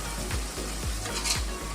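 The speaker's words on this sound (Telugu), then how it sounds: "ఇంగ్రీడియంట్స్ అన్నీ ఆనియన్స్లో ఈవెన్గా ఫ్రై చేయాలండి." Onions and curry leaves fry in a pan with a steady sizzle, with stirring scrapes repeating every half second or so, close and moderately loud, no voices.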